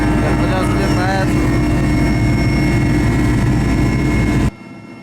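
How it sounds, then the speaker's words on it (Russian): Mi-8 helicopter taking off, a loud, steady turbine roar and rotor drone filling the cabin, with a voice speaking briefly early on before the sound cuts off abruptly. "Вертолет взлетает."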